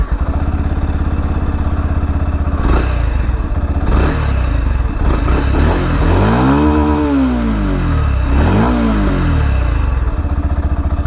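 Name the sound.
Yamaha FZ V3.0 motorcycle exhaust note revving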